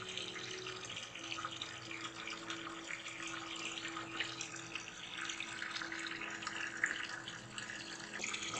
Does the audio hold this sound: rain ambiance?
no